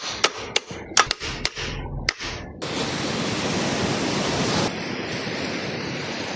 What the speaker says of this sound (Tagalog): Napakasarap pakinggan yung hampas ng mga alon.